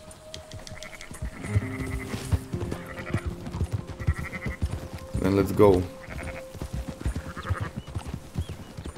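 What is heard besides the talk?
sheep bleating in video game Red Dead Redemption 2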